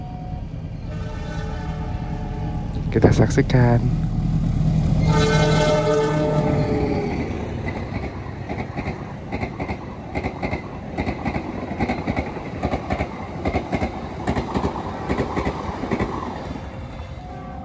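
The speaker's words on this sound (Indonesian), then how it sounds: "Kereta api Manahan Priority sudah melintas depan kita" The Manahan passenger train with its Priority car passes a level crossing, opening with a loud horn blast and then a long rumble of wheels clacking over the rails. Someone speaks briefly near the start.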